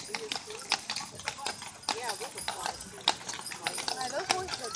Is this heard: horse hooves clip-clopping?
yes